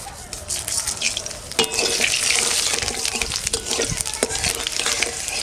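Bay leaf, dried chilli and five-spice hit hot oil left from frying fish, bursting into a loud, continuous crackling sizzle with scattered sharp pops and spatters, close up and with no one talking.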